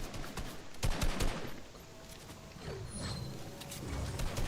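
Gunfire in a Fortnite match: bursts of rapid automatic shots and sharp single cracks spread across the moment, fairly loud and close, with no voices over them.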